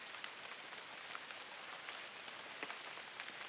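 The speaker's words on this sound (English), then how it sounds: "Rain continues. Drop, interval, drop." Rain patters steadily on a surface, with scattered soft drop ticks over an even hiss. It is faint and continuous, with no voices.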